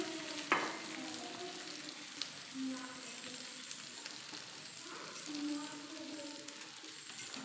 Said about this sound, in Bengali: চালটা দেওয়ার পরে একটু চালটাকে ভেজে নিচ্ছি, আবারও একটু নাড়িয়ে নিচ্ছি